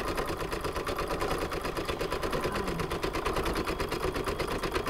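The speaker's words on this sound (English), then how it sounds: "So this is stitching a decorative zigzag border around the edge of the design" A machine embroidery machine stitches a decorative zigzag border around the edge of a watermelon coaster appliqué design, giving a steady, rapid mechanical chatter that stays loud and constant without pause.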